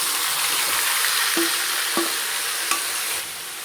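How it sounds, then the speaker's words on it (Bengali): Chicken poured into a pan of frying whole spices and dried red chilli, hissing sizzle with a few sharp utensil knocks against the pan, close, with the sizzle dropping slightly near the end; no talk. "এখন আমি চিকেনটা ঢেলে দিলাম"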